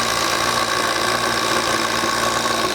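A DeWalt Atomic DCF850 20V compact impact driver drives a 1 inch fastener, giving a steady, loud, close buzzing hum with no pauses for about three seconds and no talk.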